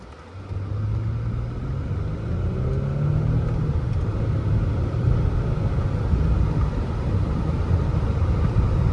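Steady engine rumble from a 2007 Lexus ES350 on a test drive, with a rising engine note that flares briefly as the transmission shifts from third to fourth; no one speaks.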